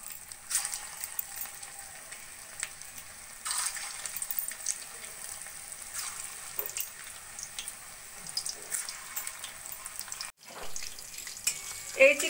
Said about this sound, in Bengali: একইভাবে বাকি চিকেনের বলগুলো আমি ভেজে নেব।